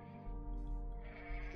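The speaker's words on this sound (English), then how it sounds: "Goats." In the Wild West tycoon game Deadwater Saloon, goats let out a short, faint bleat. It is a wavering nasal cry lasting about a second over quiet game background tones.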